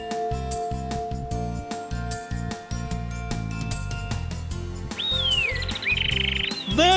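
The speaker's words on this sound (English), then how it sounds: "Those are birds!" Tropical birds calling in a wild setting, bright rising and falling whistles and chirps that grow louder toward the end, layered over a dense chorus of steady croaking and trilling calls.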